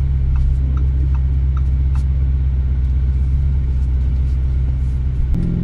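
A Lamborghini Urus engine rumbles steadily at low idle, then shifts in tone near the end as the car pulls away in first gear.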